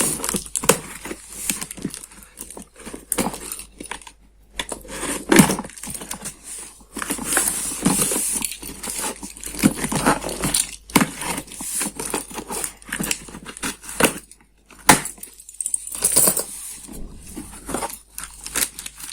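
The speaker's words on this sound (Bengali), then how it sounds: "আমরা প্যাকেজটি খুলছি প্যাকেটের ভেতরে কি আছে" Hands open the plastic package of an automatic toothpaste squeezer and toothbrush holder, a close, busy run of crinkling, tearing and clicking rustles with brief pauses.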